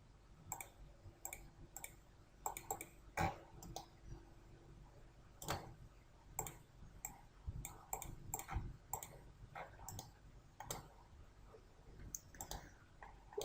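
A computer mouse clicking during CATIA modelling work, with scattered light clicks at irregular intervals, close but faint against a quiet room.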